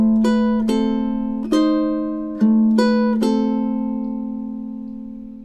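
A single ukulele plays slow, ringing plucked notes from the classical piece "A Little Flower", measures five and six. About six notes sound, each left to decay. It is close and clean, with no voice.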